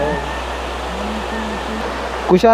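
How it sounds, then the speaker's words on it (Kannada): Water at Chiklihole dam in Kodagu district flows in an even, steady rush, a broad continuous wash of sound with a faint voice and a brief bump near the end. "ನೀವು ಎಷ್ಟು ಸ್ಮೂತಾಗಿ ಹರಿತಾ ಇದೆ ನೀರು"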